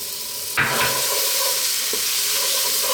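Tomato paste being stirred into browning lamb for a red wine stew, a sharp spoon scrape over a loud continuous sizzle in the pot, close and steady.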